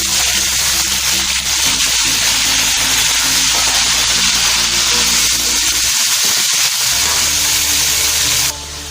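Chicken hits a hot pan of browned ginger garlic paste, giving a loud, steady sizzle and hiss that holds for several seconds with little variation.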